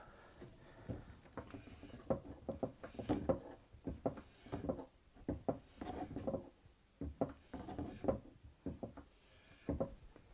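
A Cold Steel Kudu knife saws through a loaf of bread, giving quiet, close crunchy strokes that repeat in uneven bursts over a hushed room.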